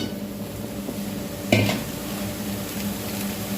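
Country chicken fries in a pan with a steady, dense sizzle. Around the middle, one brief metallic clatter of a spoon stirring against the pan stands out. No voices.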